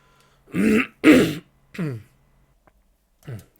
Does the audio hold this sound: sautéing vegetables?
no